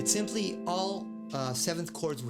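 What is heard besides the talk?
No distinct noise like a dog, phone or traffic.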